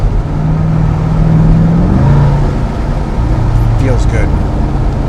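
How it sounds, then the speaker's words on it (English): A C8 Corvette fitted with an AWE touring exhaust revs hard while driving, heard from inside the cabin as a loud sustained engine drone with rising and falling pitch over road noise. "This is what a full rev sounds like while we're driving."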